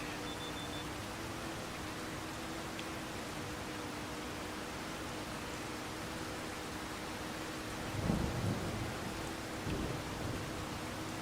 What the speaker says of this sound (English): get far enough away from the river and the rain sound comes back